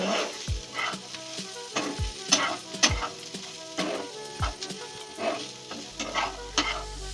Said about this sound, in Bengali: সব কিছুকে নাড়াচাড়া করে মিশিয়ে নিচ্ছি